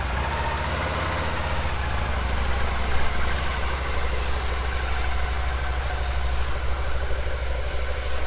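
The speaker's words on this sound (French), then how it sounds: "Donc là elle fait vraiment le bruit de tracteur." Aprilia Caponord 1000 ETV motorcycle engine idling steadily with a deep, rough, tractor-like low throb, close and continuous with no talk.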